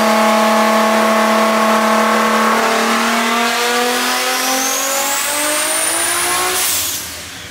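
A modified Nissan R32 Skyline GTR engine revs loud and close, its pitch climbing smoothly over several seconds into a high scream before cutting off abruptly.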